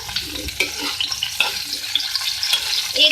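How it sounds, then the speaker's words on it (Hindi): Lightly boiled cauliflower florets frying in hot oil, giving a steady close sizzle with soft scraping and stirring knocks throughout, alone without voices. "इसको फ्राई कर लें।"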